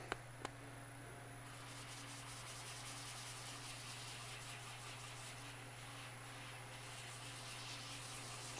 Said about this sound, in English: So I got the lathe going about 300 RPMs or so.